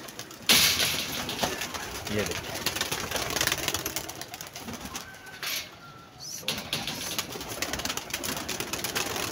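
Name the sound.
pigeons cooing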